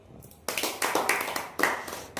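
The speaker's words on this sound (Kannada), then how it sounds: "GR ಈವೆಂಟ್ಸ್ ಟೀಮ್ಗೆ ಒಂದು ಸತಿ ಕ್ಲ್ಯಾಪ್." An audience claps for an events team at a film success meet, several bursts of applause swelling and fading in a hall, fairly near, with no talk over it.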